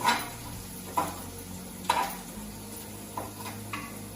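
Onions fry in a pan until brown for chicken dum biryani, a low steady sizzle broken by periodic sharp clicks and taps of a spatula against the pan, close and clear.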